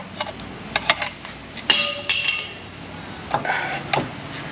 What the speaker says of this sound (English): we'll escalate on our levels of violence and start hammering pry bars in